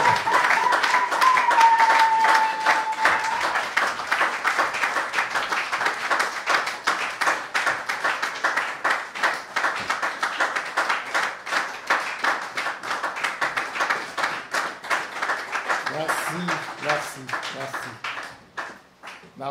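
A church congregation claps and applauds in praise, a dense, sustained burst of many hands that fades into steadier rhythmic clapping, with a voice and a brief tone heard at the start.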